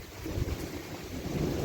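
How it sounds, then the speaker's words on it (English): Thunder from lightning flashes in a severe thunderstorm, a brief low rumble over steady rain noise, fairly faint and with no voices. "There's the thunder associated with those flashes."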